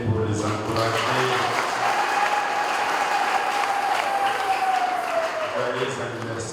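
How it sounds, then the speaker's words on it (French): Parish congregation applauds a youth group of readers and peacekeepers on its anniversary, a full, steady clapping throughout with voices mixed in. "nous pouvons les applaudir pour les encourager"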